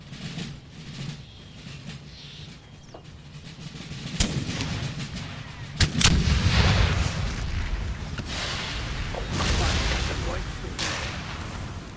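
Cannon and artillery fire in Empire Total War, a period battle with grenadiers, heavy booms and crackling volleys rolling over a noisy battlefield din, several blasts spaced through the stretch.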